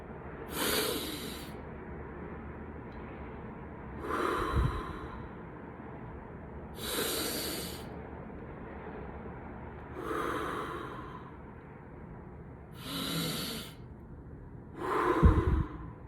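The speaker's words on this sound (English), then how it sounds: "we're going to inhale through the nose and exhale through the mouth 3 times, big breaths." Deep breathing during a seated mindfulness meditation: slow, big inhales through the nose and exhales through the mouth, six or so airy breaths spaced a few seconds apart, close and steady with quiet in between.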